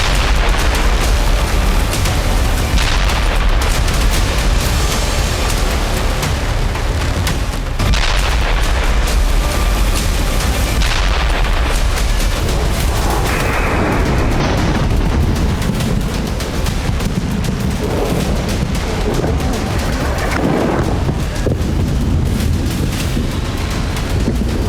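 Bunker buster bombs explode in a long, loud barrage of booms and blasts, heavy rumbling impacts following one another with hardly a break.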